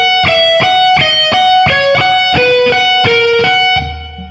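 Neoclassical shred lick on electric guitar, rapid repeated picked phrases built around a pedal tone, played alone and loud, with a steady pulse of note bursts before the final note drops into a low sustained tone.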